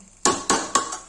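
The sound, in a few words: lid placed on cooking pot of mutton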